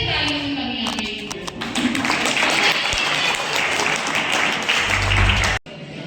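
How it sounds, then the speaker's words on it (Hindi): At a teachers training college Republic Day celebration, an audience gives sustained applause after a performance, a loud, dense wash of clapping that holds steady, then cuts off abruptly near the end. "लगता है फिर से तालियों में कमी आ गई।"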